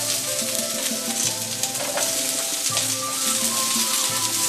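Celery and onions stir-fry in a tablespoon of oil in a pan preheated over medium heat for traditional Chinese shrimp chow mein: a steady, close, dense sizzle with faint stirring clatter throughout, no voices.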